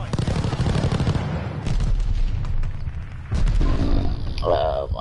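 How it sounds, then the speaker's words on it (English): Glide bomber airstrike explosions in a Call of Duty: Vanguard match, deep booming blasts and heavy rumbling bursts mixed with gunfire, with a voice talking over the chaos. "Friendly glide bomber incoming."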